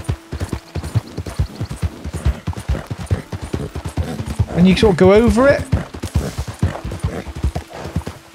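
Horse hooves clip-clop at a steady walking rhythm in Red Dead Redemption 2 as a rider crosses uneven terrain, close and fairly loud, with someone talking over much of it and a brief swell of other game noise midway.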